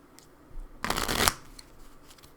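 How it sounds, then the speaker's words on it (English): Tarot deck shuffled by hand, a single brisk riffle of cards lasting about half a second, close and clear against a quiet room, with a few faint taps before and after. "I've already shuffled a bit, but I thought I'd shuffle a little bit more."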